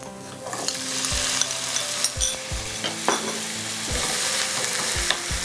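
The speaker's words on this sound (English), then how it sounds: "Again saute till they turn translucent." Onions sautéing in a pan until translucent for a curried beans pasta, giving a continuous loud sizzle with repeated spoon knocks and scraping against the pan, no voices.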